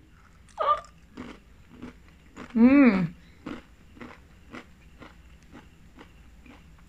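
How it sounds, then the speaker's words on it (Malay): Crisp, close-up crunching of salted egg cornflakes comes in a steady chewing rhythm, with a short hummed voice partway through. "Rasa kepingan jagung yang rangup. Kukrak-kukrak macam korang dengar tadi macam saya makan."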